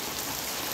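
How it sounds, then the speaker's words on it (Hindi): Heavy rain pours down steadily in a dense, continuous hiss, loud and close throughout the short moment. "और वहाँ तो इतनी तेज़ बारिश है कुछ कहने को नहीं"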